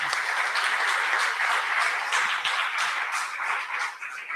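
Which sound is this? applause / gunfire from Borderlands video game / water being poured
applause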